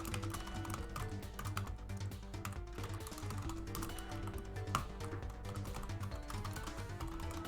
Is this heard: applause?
no